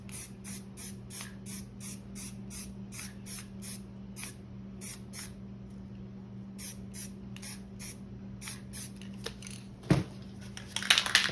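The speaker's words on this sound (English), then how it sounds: "Okay, sprayed in one direction." Spray paint can hissing in short repeated bursts for spray art, steady rhythmic sprays with brief gaps, close and fairly loud over a low steady background hum, ending with a few clattering handling noises.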